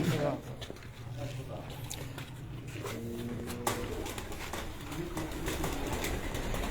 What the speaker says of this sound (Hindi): ये दोस्तों एक और ब्रीड का कबूतर ये वसीम भाई के हाथ में